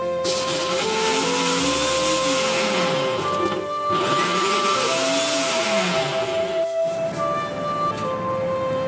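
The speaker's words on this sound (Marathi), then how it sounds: "मिक्सरला घेऊन घ्यायचं." A mixer grinder whirs loudly, grinding chutney of green chillies, cumin and garlic cloves, its motor whine rising and falling in pitch with two brief pauses between bursts.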